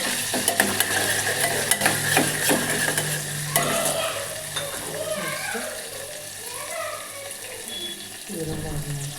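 Ginger garlic paste, dried chillies and curry leaves frying in a pan for tomato bath, a steady sizzle with stirring clatter that softens partway through, close and fairly loud.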